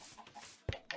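A Minecraft chicken gives short clucks, two sharp clucks near the end standing out over a quiet, faint background.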